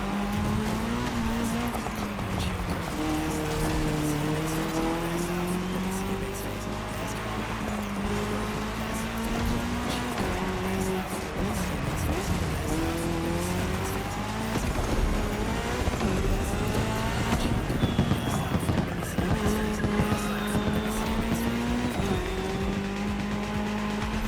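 Race cars speed over tarmac in The Crew Motorfest: several engines roar and rise and fall in pitch through gear changes, with tires squealing, loud and continuous throughout.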